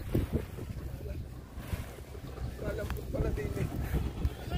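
Strong wind gusting across an open field during kite flying, buffeting the microphone in rough bursts while people talk nearby.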